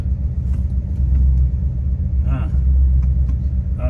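A car rolls along with a steady low engine rumble and road noise, heard from inside the cabin, with a faint squeak partway through; the car has very low brakes.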